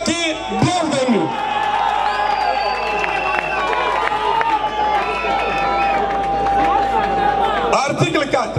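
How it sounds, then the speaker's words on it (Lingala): A crowd at a UDPS political rally roars and cheers, with whoops and shrill whistles over a loud, sustained wall of voices that swells briefly near the start and end. "Acclamons très fort"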